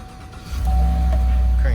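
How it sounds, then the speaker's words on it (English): A GMC Sierra Z71 4x4 pickup's engine catches after a short crank, settling from about halfway in into a steady, loud, close low idle rumble with a faint chime. "Cranks right up."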